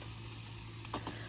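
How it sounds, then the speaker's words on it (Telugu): Boiled horse gram goes into a hot frying pan, where a steady close sizzle carries on and a couple of brief louder hisses and stirring scrapes show up near the middle. "ఇది ఫ్రై అయింది కాబట్టి ఇప్పుడు నేను ఉలువలు ఉడకబెట్టినవి కదా అది వేస్తాను"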